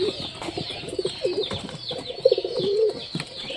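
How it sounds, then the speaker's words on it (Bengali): Pigeons coo softly and repeatedly at close range, their low throaty calls overlapping over a faint background hiss. "বাইরে থেকে দেখতে পাচ্ছ কবুতরগুলো"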